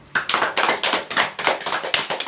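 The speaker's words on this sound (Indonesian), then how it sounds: "Tepuk tangan buat kita semua dulu" Classroom students clap their hands together in an uneven burst of about a dozen sharp, close claps lasting a couple of seconds, with no talking over them.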